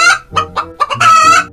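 A chicken clucks loudly and close, a quick run of short bursts followed by a longer drawn-out cackle, with no other sound around it.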